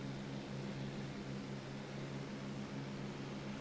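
A WWII aircraft engine pushed to full throttle in a flight simulator game, a steady, fairly quiet propeller drone with a constant low hum and no talking.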